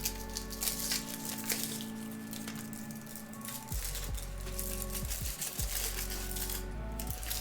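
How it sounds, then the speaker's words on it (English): A Kit Kat's foil wrapper is torn open and crinkled up close, giving quiet scattered rustles, crackles and small clinks with brief sharp snaps near the end. "Open the Kit Kat."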